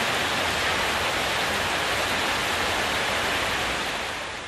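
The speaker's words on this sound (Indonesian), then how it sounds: "hujan deras pada Rabu 3 Juli 2019 sore kemarin mengguyur sebagian besar wilayah di Samarinda" Heavy rain pours down during flooding in Samarinda on a July 2019 afternoon, a dense, loud, unbroken roaring hiss with no voices that eases slightly at the very end.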